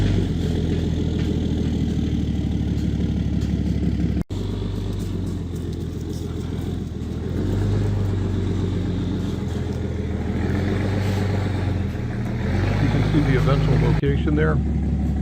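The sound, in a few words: truck backing up a tilt trailer carrying a shipping container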